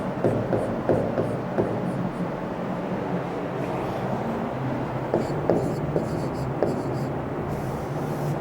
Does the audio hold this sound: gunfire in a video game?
no